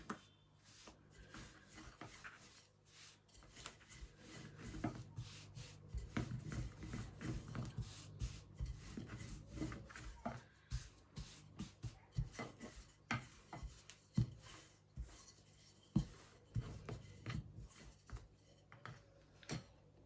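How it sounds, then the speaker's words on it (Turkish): Dough for soft börek-style poğaça is rolled out by hand on a lightly floured counter, giving soft rubbing and shuffling strokes with scattered light taps and knocks that come and go through a long stretch without speech. "tezgahımızın üzerine biraz un serpip hamurlarımızı açıyoruz"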